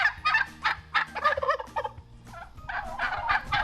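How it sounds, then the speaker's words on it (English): Several bursts of turkey gobbling from toms and jakes on a farm, rapid warbling calls repeated in quick succession, close and fairly loud, with other farm birds faintly in the background. "A mature turkey male is a tom, and an immature turkey is a jake."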